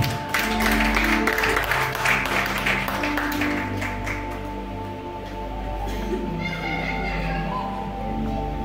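Church congregation clapping and applauding in praise, a dense sustained wash of hands with cheering voices and music underneath, loud and steady before easing slightly toward the end.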